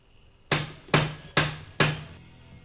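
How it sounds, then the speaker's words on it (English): Four sharp hammer strikes on metal, repairing a Husqvarna 576XP chainsaw's felling dog screw, in an even rhythm, each ringing briefly before fading, close and loud against quiet. "we're going to grab the hammer and whack it a couple more times"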